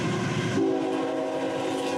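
A Norfolk Southern freight train with foreign locomotives trailing rolls past close by in a steady loud rumble of wheels and rail noise, with a sustained horn tone running through it.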